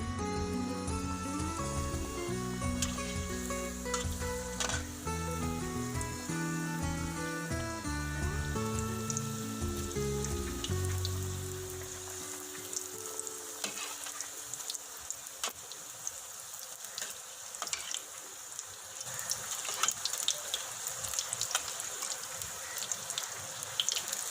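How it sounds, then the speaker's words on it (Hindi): Potato samosas frying in two cups of hot oil give a steady, rain-like crackling sizzle. It comes in under background music, then continues on its own, dense and close. "नाज़रीन मैंने 2 कप ऑयल गरम किया। अब इसमें ये समोसियाँ जा रही हैं।"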